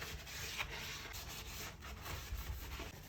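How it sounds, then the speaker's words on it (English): Sponge scrubbing a bathroom sink, a soft continuous rubbing and scraping with quick back-and-forth strokes, close and fairly quiet, with no voices. "I scrub it like I did the countertop in the kitchen"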